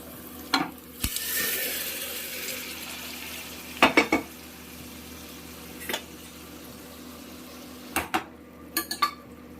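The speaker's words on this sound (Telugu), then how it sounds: "ఇప్పుడు ఈ మటన్ మనం కడాయిలో వేసుకుందామండి" Boiled mutton fries with a steady, close sizzle in a kadai, and a spatula scrapes and clinks against the metal in short bursts as it is stirred. No one speaks.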